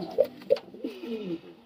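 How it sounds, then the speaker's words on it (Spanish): A young homing pigeon squab makes soft, close cooing and squeaky calls in a loft, two short bursts followed by a longer wavering call, with no talking. "aquí tenemos uno de nuestros primeros pichones."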